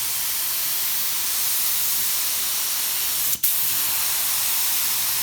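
A continuous close hiss of an aerosol can spraying seam sealer on a Jeep hood, broken by a very brief pause before the steady spray resumes.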